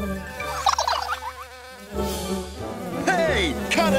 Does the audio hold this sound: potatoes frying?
no